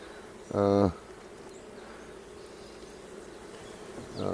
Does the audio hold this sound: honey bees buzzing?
yes